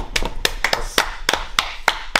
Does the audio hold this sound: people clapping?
yes